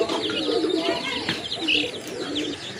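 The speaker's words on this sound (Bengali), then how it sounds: "এখানে কিন্তু কিছু গোল্লা কবুতর কালেকশন রয়েছে" Pigeons in a collection of Goll pigeons coo and murmur steadily up close, with a few brief chirps mixed into the continuous low cooing.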